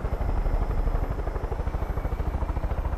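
A helicopter in Far Cry 5 drones steadily with a fast rhythmic rotor thump, loud and close, with no voices.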